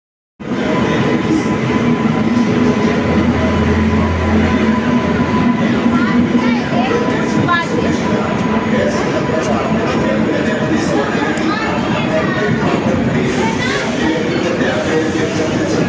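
The Tejas Express, train 12309 from Patna to Delhi, rumbles at Patna Junction during a busy festival period, with a continuous loud rolling drone, faint wheel clatter, and a crowd chattering around the platform.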